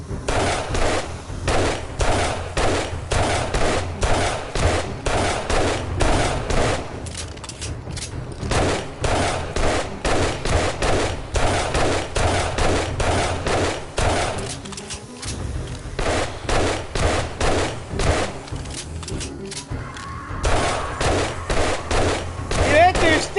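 Gunfire rattles in the survival video game 7 Days to Die, a fast, relentless string of sharp shots repeating almost without pause, loud and close, with a voice shouting over it.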